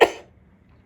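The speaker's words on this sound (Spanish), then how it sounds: "perdón por la tos." A single sharp cough, close and loud, quickly fading into near silence.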